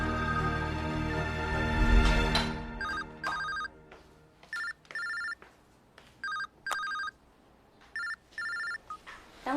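A telephone rings in repeated short trilling bursts separated by brief pauses, fairly faint and alone, after a louder swell of dramatic background music.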